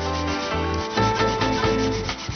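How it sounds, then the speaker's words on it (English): Daikon radish is grated against a grater in quick back-and-forth strokes, a close, steady rasping scrape with short rhythmic pauses, heard alone without talk. "It's very simple to grate a daikon radish."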